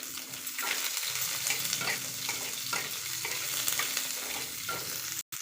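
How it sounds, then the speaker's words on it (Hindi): Onions fry in oil with a dense, continuous sizzle, broken by soft periodic stirring scrapes, heard close and alone. "पियाज को भल से भाजी नवा"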